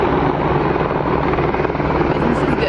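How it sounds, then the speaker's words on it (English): Helicopter flying overhead near Skagway, Alaska, a loud continuous rotor and engine roar with a low pulsing beat that holds steady throughout, close and dominating the scene. "We're just gonna do some looking to the sounds of helicopters."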